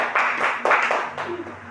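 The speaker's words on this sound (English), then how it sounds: "let's give ourselves a round of applause" A class of pupils gives itself a round of applause, a brief, moderately loud burst of clapping in a few uneven waves that tails off quickly.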